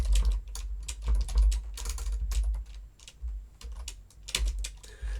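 Rapid, irregular typing on a computer keyboard while entering SQL database key code, with dense clusters of clicks and brief pauses, close and steady throughout.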